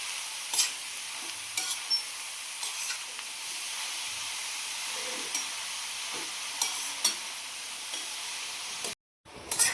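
Grated carrot halwa sizzles in ghee over a medium flame with a soft constant hiss, while a spoon stirs and scrapes the pan in scattered light clicks, close and quiet.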